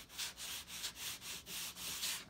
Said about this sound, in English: duplicate that very motion, the very same sanding strokes